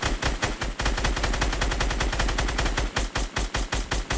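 Sustained automatic gunfire in a battle royale shooter, a fast, steady stream of loud, close shots that keeps rattling, briefly broken into short bursts near the end, with no talk over it.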